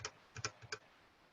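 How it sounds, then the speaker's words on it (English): Quick, faint keystrokes on a fancy mechanical computer keyboard, a small cluster of soft clicks in under a second, then quiet. "I can't type super fast on my fancy keyboard because it will turn into modifiers."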